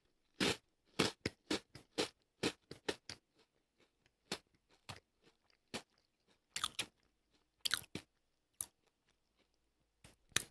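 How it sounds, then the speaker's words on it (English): Crunchy chewing of salt-flavored fried mochi, a series of sharp, close crunching bites in an irregular rhythm, clustered at first, then more spaced out, with quiet pauses between. "Did you hear that crunch?"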